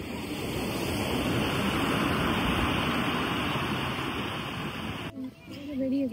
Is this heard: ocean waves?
yes